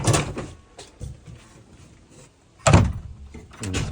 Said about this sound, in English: is this door and this latching system